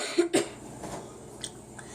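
A child coughs twice in quick succession close by, followed by a quieter throat noise and faint background sounds in an otherwise calm room.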